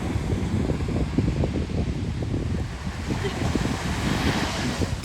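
Ocean surf and steady wind at Cocoa Beach, a constant broadband wash with wind buffeting the microphone throughout, fairly loud and continuous.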